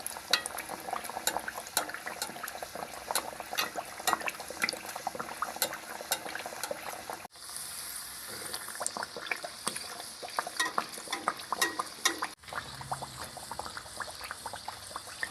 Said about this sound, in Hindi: बाकरखानी फ्राई करने के लिए कढ़ाई में डाल देंगे।